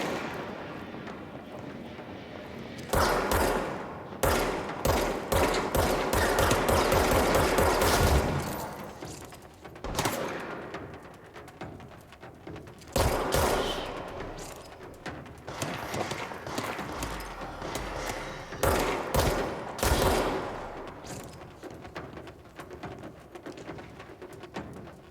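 Rapid bursts of gunfire crackle through a firefight in the video game Control, loud clustered volleys separated by short pauses and repeating in several waves over the span.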